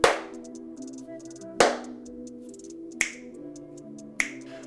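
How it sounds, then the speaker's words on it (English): Four sharp hand claps for a wireless video transmitter latency test, spaced about a second and a half apart, each a crisp close slap with a short ringing decay and no voices. "So I'm gonna do a clap."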